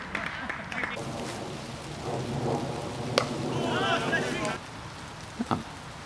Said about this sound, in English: Rain comes down.